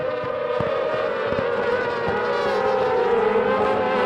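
Racing sidecar outfits scream past during a Sidecar World Championship sprint race at Assen, a steady high-revving engine whine heard from some distance with occasional sharp crackles over a continuous roar.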